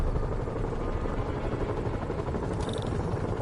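Helicopter in the Spider-Man video game, a steady loud rotor thrum filling the whole stretch on its own with no talking.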